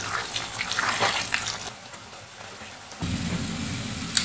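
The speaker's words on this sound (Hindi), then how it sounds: "अब इसे अच्छे से भून लें और ड्राई कर लें।" Beef masala with oil and a pinch of garam masala sizzles in a pan as it is fried until dry, giving a steady close hiss and crackle that drops quieter partway through, then returns fuller and louder, with no voices.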